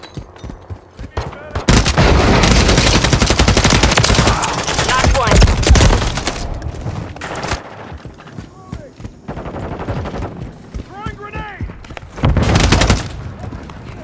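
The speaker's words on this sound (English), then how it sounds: "Hostiles deployed a remote turret." Remote turret gunfire in Call of Duty Modern Warfare 3, loud sustained automatic bursts mixed with other shooting, while voices talk over parts of the clip.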